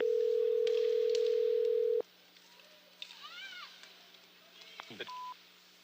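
A telephone line gives a steady, loud dial tone for two seconds that stops abruptly. Quieter, muffled background sounds follow, with short tonal beeps near the end.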